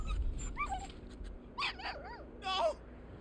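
Dog whimpering in the Final Fantasy XVI video game: several high, wavering whines and yelps in short bursts over a low background rumble, fairly faint.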